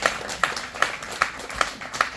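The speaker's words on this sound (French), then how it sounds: "Donc, belle applaudissement à la gloire de Dieu" A church congregation applauds at an anniversary service, heard as a small number of sharp, fairly even hand claps repeating in a steady rhythm over a short stretch.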